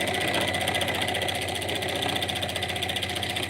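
A sewing machine runs steadily, stitching a scrappy quilt-as-you-go Halloween pot holder, with a continuous close motor hum and rapid needle chatter with no pauses.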